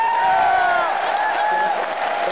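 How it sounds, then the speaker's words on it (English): Audience applause and cheering at a live comedy show, a dense steady wash of clapping with a few whoops, filling the whole moment without talk. "guys back me up by a round of applause"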